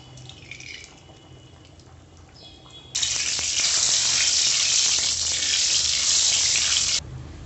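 Oil hits a well-heated kadai before fish is fried, and a loud, even sizzling hiss bursts in suddenly, holds for about four seconds, then cuts off, after quieter kitchen sounds.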